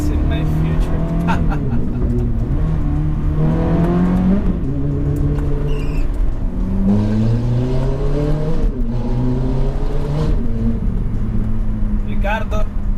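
Close, loud engine note of a Ferrari F430 F1 being driven, climbing and dropping in pitch through several throttle blips and gear changes while someone speaks over it.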